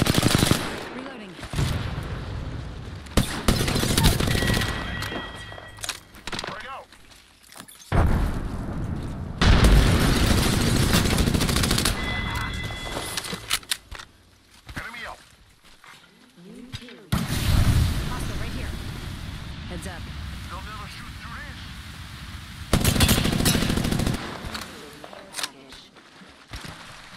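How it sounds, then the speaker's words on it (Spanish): Apex Legends battle-royale combat with bursts of automatic gunfire and heavy booming impacts, loud and close, separated by quieter gaps, with game voice lines and someone speaking Spanish at times. "Hay alguien disparando allá arriba."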